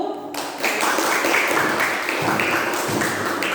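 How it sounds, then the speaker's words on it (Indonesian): A classroom of students applauds a presenting group, a loud, dense wash of many hands clapping that starts abruptly and continues steadily without letup. "Tepuk tangan untuk kelompok 1."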